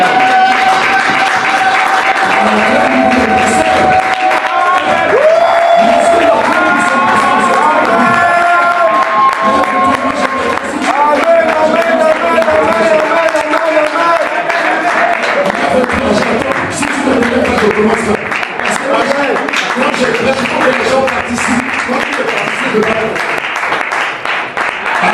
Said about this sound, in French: Acclamons pour le pasteur Aubin.